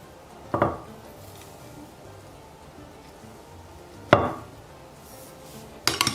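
A spoon stirring a spoonful of coffee in a cup of hot water gives three separate sharp clinks, well spaced apart, against a quiet background.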